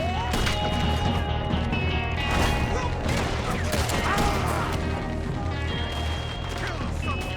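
Video game gunfire rattles in dense, continuous bursts of machine gun shots and impacts, with voices talking over the din throughout.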